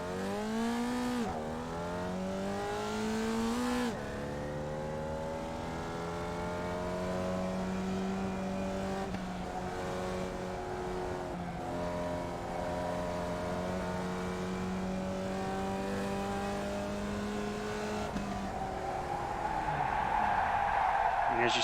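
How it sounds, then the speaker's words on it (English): Formula Vee race car lapping Lime Rock Park in the iRacing sim, its small engine droning steadily with rising and falling revs through gear changes, loud and continuous, with tire noise building near the end. "do a full lap, let you enjoy the sounds and the driving experience"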